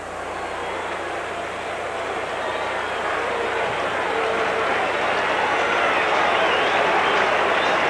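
A partisan baseball crowd at a 1981 National League Championship Series playoff game in Los Angeles gives a broad, steady roar of applause and cheering that swells gradually in loudness across the stretch.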